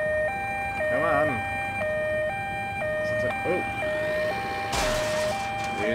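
An ambulance siren in the Ambulance Simulator video game wails in a steady two-tone pattern throughout, with someone talking excitedly over it and a short burst of noise late on.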